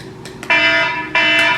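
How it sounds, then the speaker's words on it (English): An electronic alarm goes off in two loud, long, shrill beeps with a buzzy tone, after a couple of soft clicks, with no talking over it. "an alarm"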